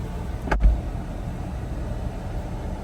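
A 2014 Ford Flex SEL idling just after startup, a steady low engine rumble with a brief click or thump near the start, no voices.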